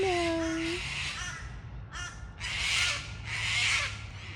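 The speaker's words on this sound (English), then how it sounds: "Yeah, those birds are very loud." Several loud crow caws in bursts, fairly close, over a low background hum, with a brief vocal tone at the start.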